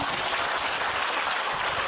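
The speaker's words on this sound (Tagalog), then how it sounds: "Palakpak naman po dyan." An audience applauds at a marketing presentation, a dense, steady wash of clapping from many hands that fills the whole moment without a break, fairly loud and with no talking over it.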